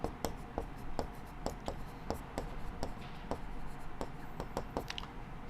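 Hand-writing fractions during a Class 6 maths lesson: a steady series of quiet, sharp pen or chalk taps and scratches, about two per second, with no talk.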